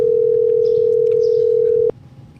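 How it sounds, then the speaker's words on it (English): A single steady telephone ringback or dial tone from an outgoing call, loud and continuous for nearly two seconds before cutting off abruptly, leaving only quiet room noise. "we're ringing."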